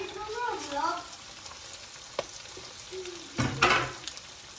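Ham sizzles in a frying pan while chopsuey is being cooked, a soft steady crackle near the mic with a few sharp spatters and stirring clinks, and a voice speaking briefly at the start.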